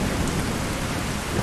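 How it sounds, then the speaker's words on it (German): Steady rain pours with rolling thunder during a storm in the VR game Skyrim, a continuous dense wash that fills the whole moment without any voices. "Und es blitzt und donnert."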